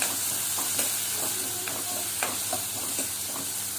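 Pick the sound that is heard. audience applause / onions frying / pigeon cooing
onions frying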